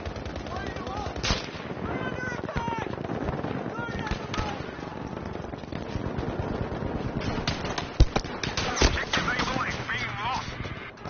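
Gunfire rattles through a Battlefield 5 match as dense, rapid automatic bursts and sharp single shots echo near and far, with one loud crack standing out, while players talk over the shooting.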